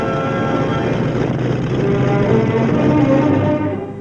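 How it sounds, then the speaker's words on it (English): A loud, steady airplane-style propeller drone from a Vietnam War-era patrol air cushion vehicle, with a deep rumbling engine beneath, continuous and close throughout, with no voices. "The PACVs are driven forward by an airplane-style rotor"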